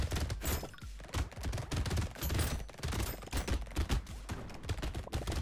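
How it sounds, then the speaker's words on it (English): Rapid explosions burst continuously in the video game Brotato, a dense, loud crackling barrage of overlapping pops and thumps with no pauses. "hard to feel bad about the run when you've got these explosions going off"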